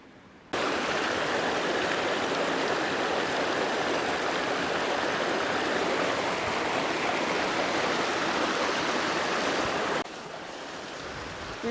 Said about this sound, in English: this is kind of a nice little creek